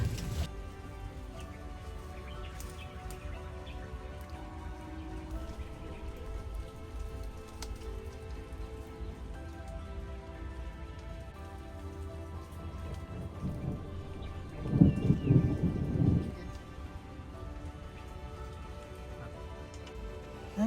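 Steady rain patters on the ground and foliage of a forest along a temple trek, with a low rumble of thunder swelling about two-thirds through; no voices are heard.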